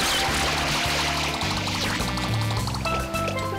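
Water sprays in a steady continuous gush in the Super Mario Sunshine video game, layered over busy game music with no talking.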